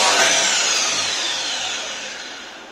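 A DeWalt electric miter saw runs at full speed, a loud close steady whine that slowly fades as the blade winds down.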